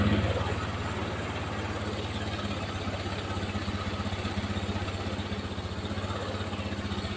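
A carbureted Honda Scoopy scooter with an unstable idle and a fouled black spark plug runs nearby, giving a steady low, pulsing putter at idle with no talk over it.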